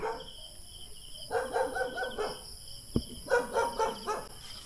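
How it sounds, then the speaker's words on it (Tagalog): A dog barking outside near a house on a mountain, two bursts of repeated barks at a distance, with a sharp knock between them and crickets or insects buzzing steadily in the background. "Ang aso dyan sa labas."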